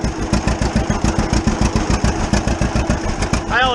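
Two-cylinder tractor engine running in second gear low: a loud, close, uneven chugging beat with strong regular pulses, steady throughout, with a brief voice near the end.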